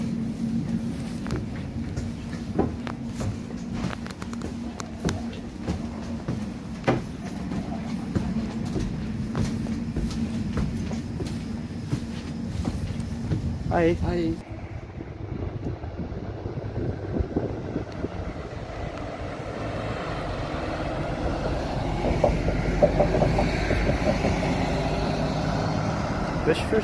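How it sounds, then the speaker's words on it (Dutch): A GVB tram on the Amstelveen line rumbles along with a steady low mechanical drone, a sharp transition midway as it shifts, and brief greetings spoken over the running noise. "Oeh, we gaan weer de tram in."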